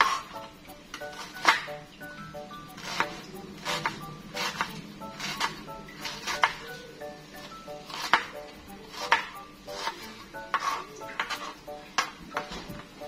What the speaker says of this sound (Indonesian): Di sini aku iris dengan irisan kasar ya.